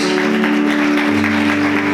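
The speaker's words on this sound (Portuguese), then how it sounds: "Vamos aplaudir Jesus bem forte" Loud, dense applause from a church congregation clapping hard for Jesus, a continuous roar of hands over sustained worship-music tones.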